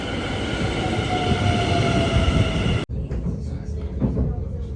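A train leaving Amsterdam Centraal for the city centre rumbles loudly and steadily from inside the carriage, then the noise drops abruptly to a quieter rolling hum with faint clatter.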